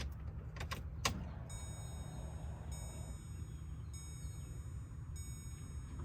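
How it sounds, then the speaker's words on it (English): A car key jangles and clicks as it goes into the ignition and turns to on, followed by a faint electronic whine and quiet steady hum in a still cabin. "Set key in ignition. Turn key to on."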